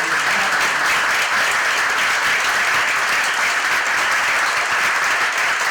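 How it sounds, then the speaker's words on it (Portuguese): Sustained audience applause at a medical council's anniversary event for a Covid-19 vaccination campaign in Rio de Janeiro, steady dense clapping from a crowd filling the room without pause. "uma salva de palmas para os médicos do Rio."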